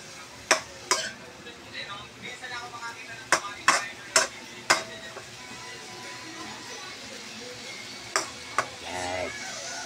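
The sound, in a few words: cooking sarsiado galunggong fish, stirring and sizzling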